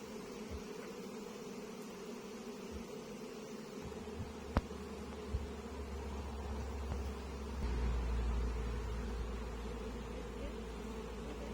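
Honey bees hum in a dense, continuous drone, fairly faint, with occasional soft knocks and a low rumble building partway through.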